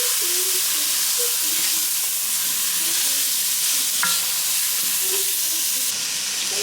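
Onions, celery, garlic and peppers fry in a gumbo pot with a loud, steady hiss, while stirring makes soft, scattered scrapes and clunks close by.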